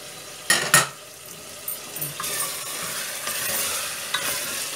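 Mutton is stirred and fried in a pot for a Hyderabadi green sorrel leaves curry, with spoon scrapes and clinks against the metal over a soft continuous sizzle, close by.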